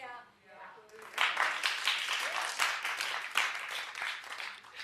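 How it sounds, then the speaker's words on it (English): A television talk show studio audience breaks into applause after a quiet moment, a steady burst of clapping that carries on for several seconds at moderate loudness. "clap if you're with me."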